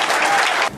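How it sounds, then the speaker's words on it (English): A dense burst of audience applause at a children's alopecia charity spring show greets a young speaker, loud and continuous, then dropping off abruptly near the end. "everyone give a big round of applause to Alex Palloway"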